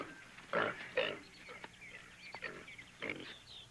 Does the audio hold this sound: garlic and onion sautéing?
no